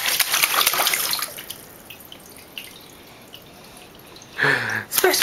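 Water splashes in loud bursts at the start and again near the end, with a quiet stretch between and a short voice at the close.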